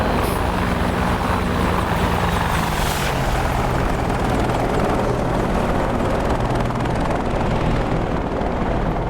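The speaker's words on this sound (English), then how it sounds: "they've really nailed the flyby sounds" Loud, continuous video game Apache attack helicopter rotor roar with a whining engine tone, sweeping past close by and staying dense throughout.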